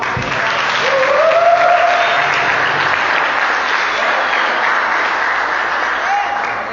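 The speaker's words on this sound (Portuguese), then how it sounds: "Uma salva de palmas." Sustained audience applause fills a church youth service hall, loud and steady throughout, with brief tonal whoops rising above the clapping.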